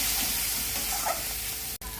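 Potatoes and spices frying in oil while being stirred, a continuous close sizzle with scraping movement, briefly cut off near the end.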